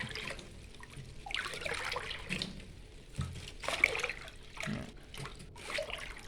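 Fertilizer A being stirred into water for hydroponic vegetables, heard as soft sloshing and trickling splashes that come in irregular bursts, fairly quiet and close, with no talking.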